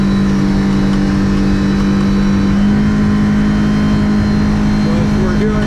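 A Yamaha F115 outboard on a 2024 Hewescraft 75th anniversary edition boat drones at high revs up to the rev limiter, then its pitch drops as the throttle eases, loud and steady with light talk over it.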